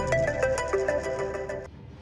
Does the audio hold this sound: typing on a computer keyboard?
no